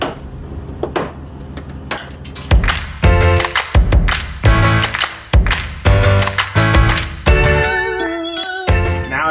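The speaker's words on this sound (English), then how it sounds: "retention clips that we're going to remove along this edge and then at the bottom" Plastic retention clips pried out of a Jeep's inner wheel well liner make a close, loud series of sharp clicks, snaps and plastic clatter in irregular bursts, with no talking.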